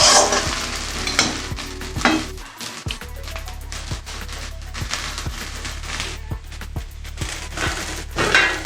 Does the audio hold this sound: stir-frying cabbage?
yes